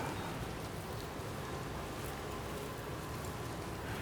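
Steady rain in Death Stranding 2, a dense, even wash of falling drops with a constant low rumble and no breaks or voices.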